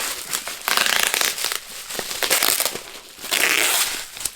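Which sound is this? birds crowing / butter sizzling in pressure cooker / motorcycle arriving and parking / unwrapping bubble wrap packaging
unwrapping bubble wrap packaging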